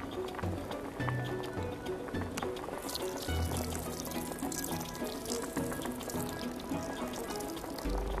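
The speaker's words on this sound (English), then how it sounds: "In another bowl, add one part wine, three parts water, a splash of honey," Wine and water poured into a bowl while mixing a recipe in the VR cooking game Lost Recipes, a steady splashing trickle of liquid that runs for several seconds beneath low game tones.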